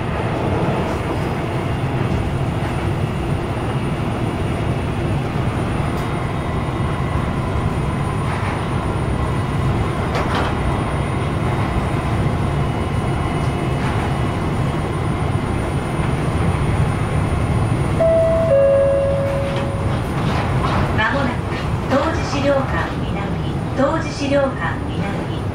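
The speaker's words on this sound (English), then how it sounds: "This is the local train bound for Fujigaoka." Linimo maglev train running between Yakusa and Fujigaoka, a steady loud rumble and whine of the car in motion throughout, with a brief tone near the end and onboard announcements spoken over it.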